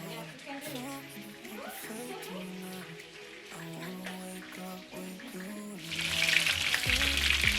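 Chicken pieces for butter chicken sizzle and crackle while frying in a pan, a steady spattering hiss that swells louder near the end, with talk running over the top.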